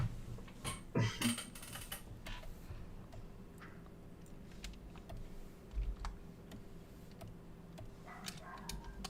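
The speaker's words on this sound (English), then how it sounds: "I don't know if the typing sounds a little bit Oh yeah, a loud." Faint, irregular clicks of keys being tapped on a computer keyboard, with a couple of louder bumps and a quiet background hum.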